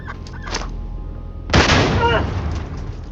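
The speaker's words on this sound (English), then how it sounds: "Quack bangs with a very large explosion radius, double that of a frag grenade" Duck grenade detonating in a video game mod, a single sudden loud blast that rumbles and fades over a second or more, following softer game sounds.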